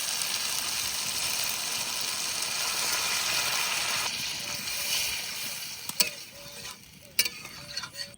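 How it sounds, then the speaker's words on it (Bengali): Chicken liver and gizzard curry sizzles steadily in a pan, a dense continuous hiss that softens as water goes in, with a few sharp spatters and clinks near the end. "পাকস্থলী আর মেটে সুন্দর করে কষিয়ে নিয়েছি, এবার একটুখানি জল দিয়ে ঢাকা দিয়ে দেবো"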